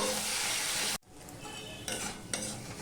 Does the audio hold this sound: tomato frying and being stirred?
yes